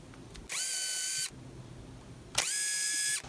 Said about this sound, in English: mark your drill bit with a piece of tape